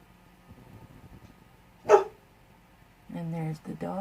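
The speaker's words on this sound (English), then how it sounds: "And there's the dogs" Dogs bark at a distance, with one sharp bark standing out, while a person talks close by in a quiet room.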